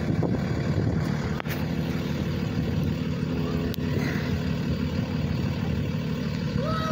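A school bus draws near on a street, its heavy engine a steady low rumble that fills the whole stretch at fairly close range, with no talk over it.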